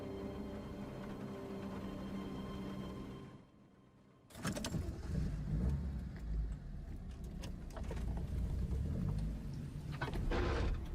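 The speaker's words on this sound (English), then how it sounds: "that's the sound of the door opening" A car door opening in the Silent Hill 2 Remake video game, following a quiet muffled interior stillness, then a sudden loud burst of clunks and rushing noise that continues with scattered knocks and a broad wash.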